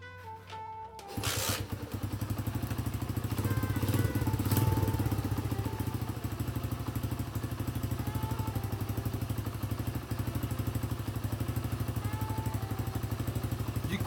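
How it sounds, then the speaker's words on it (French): A Honda Dax motorcycle engine catches after a brief start and settles into a steady, close, loud idle with a rapid even putter and a light mechanical clatter, with no voices. "On va redémarrer le Dax."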